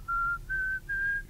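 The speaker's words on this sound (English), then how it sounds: "The special whistling." Three sustained whistled notes, each held clearly and stepping slightly upward in pitch, whistled by a man practicing a classical Bach-style melody, close and alone with no talk.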